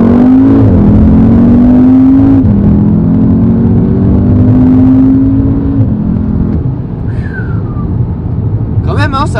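Audi TTS with a 310 hp engine accelerating hard: a loud, close engine note climbs steadily in pitch, drops at each upshift, then climbs again through several gears before easing off.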